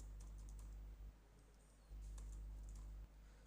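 Soft, scattered keyboard typing while entering a Power BI DAX count formula, short clusters of faint clicks with pauses between, over a low electrical hum and no voices.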